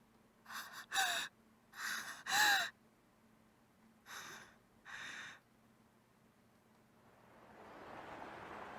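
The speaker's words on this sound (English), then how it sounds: "Tsubakiko panted as she returned to reality" A female character in the horror game Iwaihime pants and gasps after waking from a dream: several sharp, loud breaths in uneven bursts, then a rising windy hiss.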